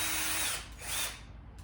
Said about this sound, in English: you're going to get a 3/8 drill, and then just at the top here, you're just going to drill